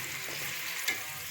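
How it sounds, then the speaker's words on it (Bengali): Onions frying in oil for biryani, cooked until deep red like crisp fried onion garnish: a steady soft sizzle with two brief louder stirring scrapes near the end, no talk. "পেঁয়াজটা এবারে আমি ভেজে তুলে নেব"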